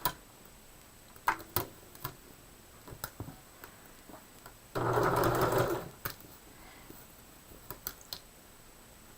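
Sewing machine stitching a short quilt seam, a single one-second burst of rapid mechanical whirring amid quiet clicks and handling taps before and after.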